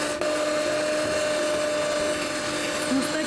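An electric mixer whisking cake batter for a sponge roll, a continuous steady motor whine with a constant pitch, close and moderately loud, running without pause throughout.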